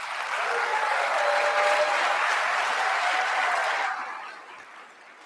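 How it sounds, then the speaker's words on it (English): A crowd at the All-America City awards ceremony applauds, a broad, even wash of clapping that holds steady and then fades out quickly near the end. "So give yourselves a round of applause."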